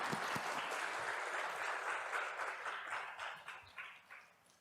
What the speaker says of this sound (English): Give the music team a round of applause.